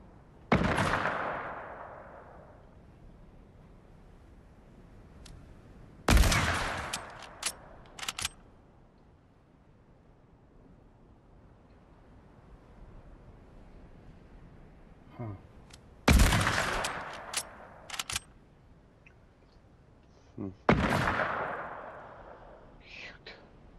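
Gunshots in Fortnite Creative crack out in four separate sharp bursts, each a loud report with short trailing shots, spaced several seconds apart over quiet game ambience and faint low talk.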